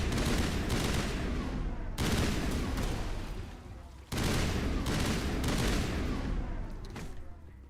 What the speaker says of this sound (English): they are not kidding about the rate of fire of this thing